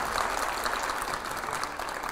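Studio audience applauding loudly on a TV news panel show with five editors, continuous dense clapping filling the whole short stretch without talk.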